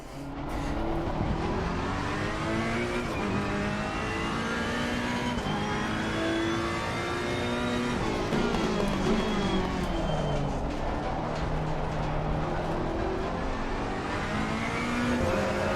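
A Ferrari GT race car in Assetto Corsa Competizione roars at full throttle, its engine climbing steadily through the gears, loud and continuous with brief shifts, tyre noise and a faint voice underneath.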